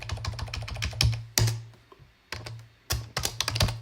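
Java code being typed on a computer keyboard, a rapid run of close key clicks with a few louder strikes and short pauses between bursts.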